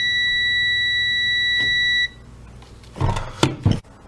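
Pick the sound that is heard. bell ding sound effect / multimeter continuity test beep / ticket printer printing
multimeter continuity test beep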